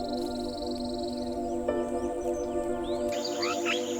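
Migratory birds call in a Bangladesh wetland, a layered chorus of chirps, whistles and chattering notes near and far, with rising sweeps toward the end, over a steady background hum.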